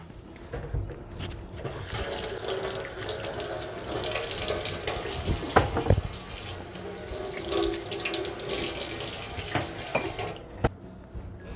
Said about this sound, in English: I'm gonna wash the banana and plantains and then peel them